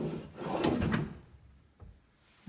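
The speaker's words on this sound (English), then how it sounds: "So you've got the anti-slam doors." Soft-close kitchen cabinet doors in a newly fitted kitchen, one muffled closing thud that eases shut, followed by a faint click, with no talking.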